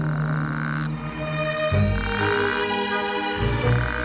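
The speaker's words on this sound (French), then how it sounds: "Plus son coassement est fort, plus ses chances de s'accoupler sont grandes." A male toad croaks loudly in an Arabian wadi, giving repeated buzzing, harmonic-rich calls in long bursts with short breaks, close and alone without any voices.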